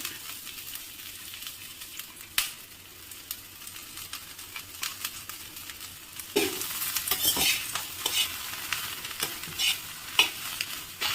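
Oil sizzles steadily as onions fry for chutney, with a spoon stirring and scraping the pan in bursts that grow busier toward the end.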